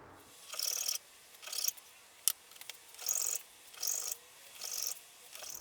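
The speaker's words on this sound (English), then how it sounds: "I think I'll grind down the profile just a whisker on the band sander without showing it" A guitar neck profile is ground down on a band sander during a build setup, giving repeated bursts of rasping abrasion, about six passes separated by short pauses, close and fairly loud with no talk.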